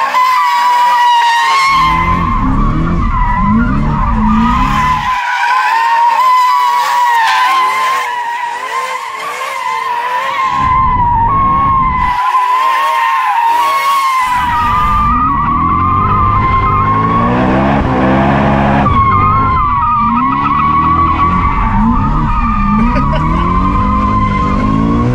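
A BMW M4 drifting on new Chinese tires, its engine howling at sustained high revs while the tires skid and squeal loudly, with the engine note rising and falling through the run and brief quieter dips between slides.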